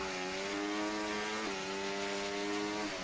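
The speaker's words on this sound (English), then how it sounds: "Revving out the engine quite a bit." An F2 racing car engine in a racing video game revs high and steady, a buzzing multi-toned drone with a brief dip in pitch midway, fairly faint.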